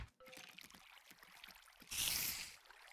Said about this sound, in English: let's just fill up some water bottles while we have time